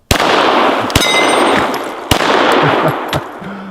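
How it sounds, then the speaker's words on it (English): Glock 17L plastic pistol fired at blue 2-liter bottles outdoors: four sharp, loud gunshots spaced about a second apart, each with a brief ringing tail over a steady windy background. "let's shoot a couple of those"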